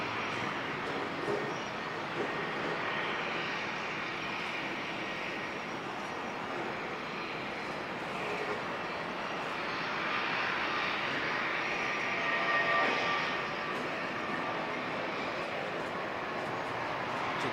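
A Boeing 787 begins its takeoff roll in fog at Auckland Airport, a steady broad jet roar held at moderate distance that swells slightly toward the end, with no voices present.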